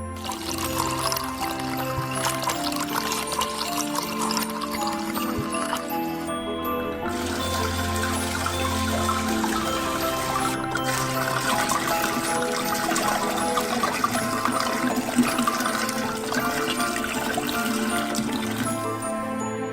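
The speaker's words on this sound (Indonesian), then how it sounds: "Dan kita butuhkan panci besar tempat ini dan tuangkan semua anggur ini." Six bottles of wine poured one after another into a large pot, a steady liquid splashing and gurgling that runs nearly the whole time, with brief gaps between bottles and steady background music.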